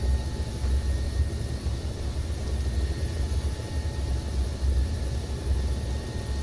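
A helicopter in a combat video game drones steadily with a low rotor rumble and a constant engine hum, continuous and moderately loud, with no voices.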